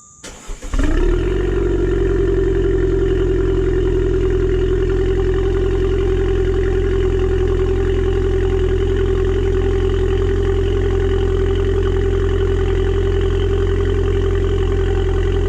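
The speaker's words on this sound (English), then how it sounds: "put you guys behind the A5 and let you hear what a cold start sounds like with the KO4 turbo on it" Audi A5 fitted with a K04 turbo cold-starting: a brief crank and catch, then a loud, steady high idle drone that holds evenly for the rest of the time, close by, with no talking.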